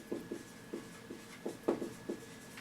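Chalk or marker strokes on a board during a chemistry lesson, a quick run of short scratchy taps at an uneven rhythm, close and clear with no talking.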